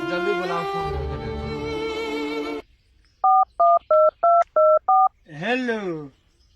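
Six evenly spaced telephone keypad dialing tones ring out clearly while calling a doctor, following a stretch of loud talk and followed by a voice speaking.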